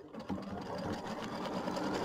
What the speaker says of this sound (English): so it's doing a satin stitch